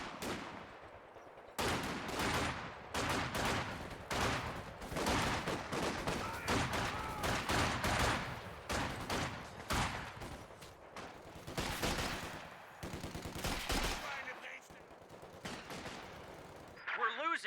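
Rifle gunfire rattles through a competitive video game match, bursts of rapid shots in clusters with brief gaps, while a commentator talks over the action.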